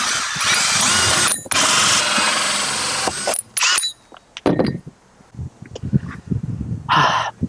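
A power drill bores holes during a budget camper van build, running in two long loud bursts, then a quieter stretch of clicks and clinks of parts being handled, with another short drill whir near the end.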